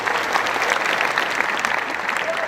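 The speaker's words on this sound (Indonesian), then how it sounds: "Tepuk tangan semuanya." Steady, dense applause from a church congregation fills the room, a continuous wash of clapping hands with a faint murmur of the crowd beneath.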